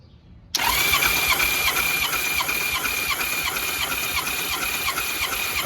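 A 1994 Honda GL1500 Goldwing engine cranks on the starter during a compression test, a loud sudden start into a steady fast whirring churn with a regular pulsing beat.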